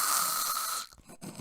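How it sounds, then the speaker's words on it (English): A person clears their sinuses with a loud, hissing nasal snort lasting under a second, followed by a few softer breathy sniffs close up. "Oh, I have to clear my sinuses."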